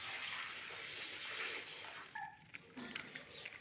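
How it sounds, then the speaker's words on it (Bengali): Diced papaya and potato pieces are washed in water, first a steady rushing stream of running water, then a few sloshing splashes and drips as the flow stops. "আলু আর পেঁপেটাকে ভালো করে ধুয়ে নেব"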